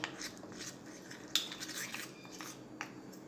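A spoon clinks and scrapes in a bowl as buttermilk is mixed into besan paste for Gujarati kadhi. The clicks come in a quick, uneven rhythm and are fairly quiet and close, with one sharper knock near the middle and no one speaking.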